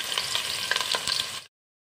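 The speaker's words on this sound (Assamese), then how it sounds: "পিঁয়াজখিনি এনেদৰে ভাজি ল'লোঁ, একেবাৰে ৰঙা কৰা নাই।" Finely chopped onions fry in refined oil in a pot, giving a close, steady sizzle with a few stirring scrapes, then the sound cuts off abruptly.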